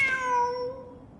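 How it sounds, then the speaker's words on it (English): A single drawn-out cat meow in a video game, clear and close, sliding downward in pitch and fading out over about a second. "Wait, there it is! The cat!"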